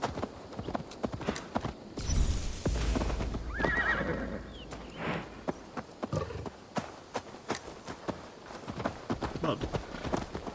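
A horse in a video game neighs and whinnies while its hooves clop in a quick galloping rhythm, close and fairly loud, with a brief whoosh and game effects layered in.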